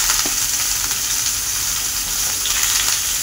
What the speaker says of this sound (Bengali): তো এবার আবার ভালো করে একটু ভেজে টেজে নেবো। ভালো করে ভেজে নেবো পটলটা।